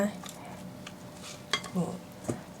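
Cookie dough being stirred with a rubber spatula in a bowl, a few soft scrapes and light knocks against the bowl, close and quiet, with someone talking in between.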